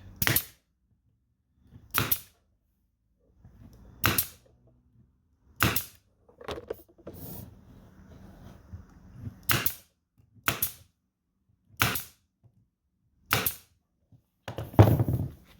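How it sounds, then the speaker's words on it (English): A nail gun drives fasteners into wood while a solitary bee house is assembled: about ten sharp, loud, close pops at irregular intervals of one to two seconds, with faint handling noise between them and no speech. "for me, I personally like to use a nail gun."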